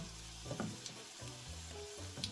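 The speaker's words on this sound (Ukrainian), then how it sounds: "Смажимо котлети на вище середньому вогні та ще й під кришкою." Potato patties sizzling and crackling in a covered hot pan over medium-high heat, a steady frying hiss with occasional pops and faint clinks.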